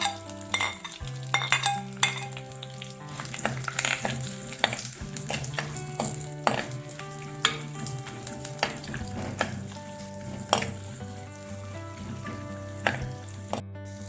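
Chopped coconut pieces fry in coconut oil with mustard seeds and dried chillies in a pan, a loud steady sizzle broken by repeated scrapes and clinks of a spoon stirring.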